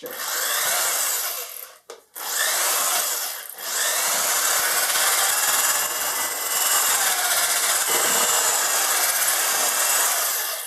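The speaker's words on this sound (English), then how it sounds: "You can tell by the sound the drill is making that it's working a little bit harder" A power drill whirs continuously at close range, briefly cutting out near the start, then grinding steadily and straining as it churns through a thick papier-mâché clay mixture of flour.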